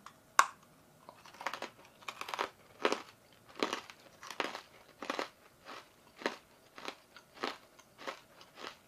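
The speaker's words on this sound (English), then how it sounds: "Oh, this is gonna be crunchy." Freeze-dried pink Starburst candy crunched between the teeth, a close series of crisp, crackly bites and chews coming in irregular bursts with quiet gaps between, alone without talk.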